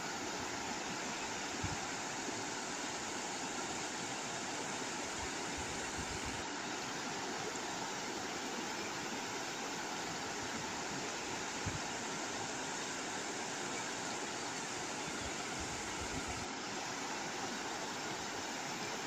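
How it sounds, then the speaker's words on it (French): Water flows in a stream with a steady, unbroken rush that fills the whole clip at an even level, close and continuous, with no voices. "Écoutez le clapotis de l'eau."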